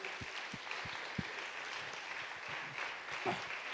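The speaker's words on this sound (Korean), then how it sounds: "박수로 영광 돌리겠습니다" A church congregation applauding together during a youth service anniversary, steady scattered clapping held at a moderate level, with a few sharper hand claps and low murmurs underneath.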